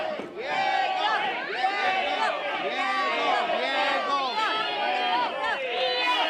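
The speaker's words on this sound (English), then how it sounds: "We've got some Diego chants. We've got some Vinny chants." A wrestling crowd chants for Diego and Vinny during a final match. Many loud voices blend into a dense, unbroken roar of rhythmic cheering and shouting that holds steady from start to finish.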